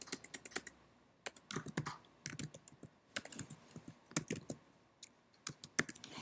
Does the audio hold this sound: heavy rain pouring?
no